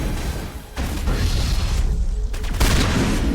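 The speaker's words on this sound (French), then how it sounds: "On va utiliser une grenade sinon." A grenade explodes during a gunfight in the video game Mass Effect 1, a loud, dense roaring blast with crackling bursts that fills the clip from start to end, without talk.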